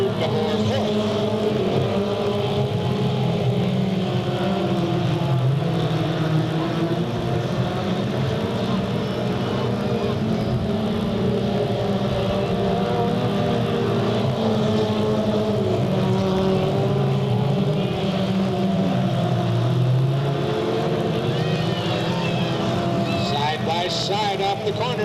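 Race cars circle Delta Speedway in 1998, their engines a steady, droning roar with pitch rising and falling as the pack passes, while an announcer calls the race over the noise.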